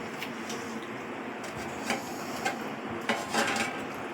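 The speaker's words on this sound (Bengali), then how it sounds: "ঢাকাটাও উপর দিয়ে দিলাম।" A cooking pot is set on a gas stove for mutton biryani and its lid placed on top, heard as several light metallic clanks and taps spread across the span against a low kitchen hum, with no talking.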